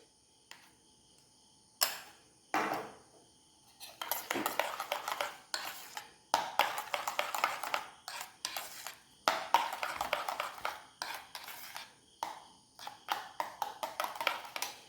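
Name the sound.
mixing homemade mayonnaise with tomato sauce using cutlery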